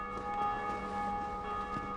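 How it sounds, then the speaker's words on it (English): A church bell in the Dark Souls game, rung by another player, sustains a steady metallic ringing tone with overtones, heard at a distance and fairly faint over a low game ambience. "someone else rang the bell in their world"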